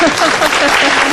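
Audience applause during a Korean talk on innovation and venture companies, dense steady clapping filling the short moment with faint vocal traces mixed in.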